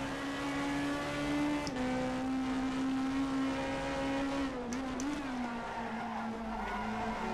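A front-wheel-drive British Super Touring car from the old-school BTCC era, raced in rFactor 2, holds a steady engine drone through a gear change and cornering, with brief tyre scrub near the end, loud and close with no talk.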